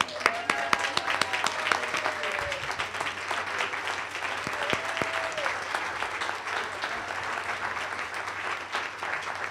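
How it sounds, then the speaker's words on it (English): A closing-remarks audience stands and applauds for Gita Rampersad, a sustained wash of clapping with a few sharp claps standing out and a brief whistle-like tone riding over it. "Please stand and give Gita Rampersad a round of applause."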